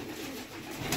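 Golden and Salara pigeons coo softly and continuously in a short burst, with no talking over them.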